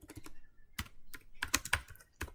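Typing on a computer keyboard while entering configuration commands, a short close burst of irregular clicking keystrokes with a few sharper taps, no talking.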